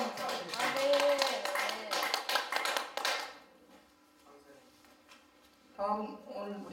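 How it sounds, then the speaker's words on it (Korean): Audience applause at a Korean church broadcast announcement, loud dense clapping for about three seconds that fades out, then a brief burst of clapping returns near the end. "함께 박수 한번 부탁드리겠습니다"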